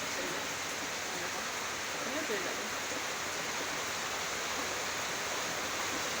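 Steady broadband rush of water pouring and leaking inside a kitchen, a constant faint hiss like heavy rain or a stream with no clear separate drips, unbroken for the whole stretch.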